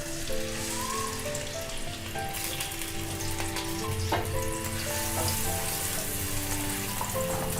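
Chopped onions sizzle steadily in hot oil in a kadhai, a constant crackling hiss with a faint hum in the background.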